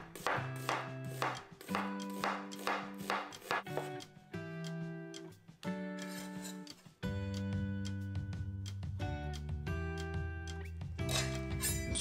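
Knife slicing an onion on a cutting board in a home kitchen, a run of quick, close rhythmic chops heard over a bed of music, with no talking.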